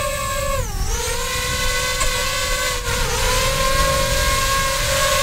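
A DJI FPV drone's motors whine steadily and loudly at close range as it lifts off, a layered buzzing tone that dips in pitch for a moment, then settles and dips again briefly with no voices present.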